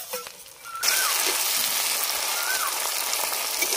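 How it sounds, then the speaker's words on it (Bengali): Chopped tomatoes go into a pan of frying onions, and a quieter sizzle jumps into a loud, dense, steady hiss that continues to the end, with a few faint scrapes; no talking. "এবার আমি কেটে রাখা টমেটোগুলো দিয়ে দিচ্ছি।"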